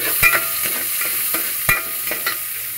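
Garlic and onion sauté in a pan for ginisa, with a close, continuous sizzle punctuated by several sharp spatula scrapes and taps against the metal.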